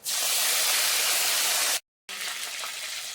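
Curry leaves hit hot oil after mustard seeds in a loud burst of sizzling, which cuts out briefly to silence, then resumes as a steady crackling hiss.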